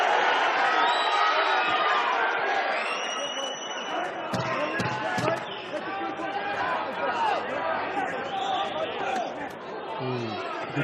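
Spectators at a professional boxing match between Billy Dib and Tevin Farmer give continuous arena crowd noise and chatter with some swells of cheering, under steady commentator speech throughout.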